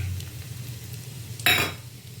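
Panch phoron spices sizzling in hot oil in a pan, a steady low crackle and hiss that swells into a brief louder burst of frying midway before settling back.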